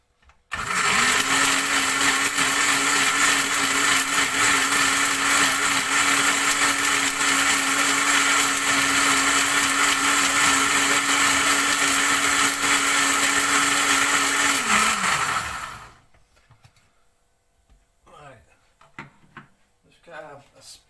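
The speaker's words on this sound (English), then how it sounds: "Still needs a bit more blending." A kitchen blender whirs loudly and steadily for about fifteen seconds blending banana blackcurrant muffin batter, then cuts off, followed by faint clatter and handling sounds.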